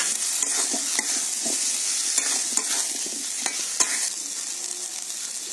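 Pre-fried potatoes hiss and crackle in a pan with spiced paste while a utensil stirs, giving repeated sharp scrapes over a steady sizzle, close up with no speech.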